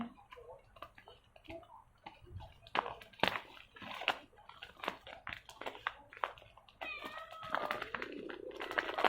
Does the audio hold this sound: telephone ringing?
no